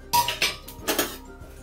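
Appe (paddu) lifted from a pan onto a plate with a few sharp metallic clinks and scrapes of cutlery against cookware, close and moderately loud, in quick irregular taps.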